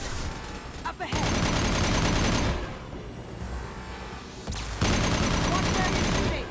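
Sustained bursts of gunfire in the video game Mass Effect Legendary Edition 2, loud and dense across the clip, with a brief lull in the middle before another heavy volley.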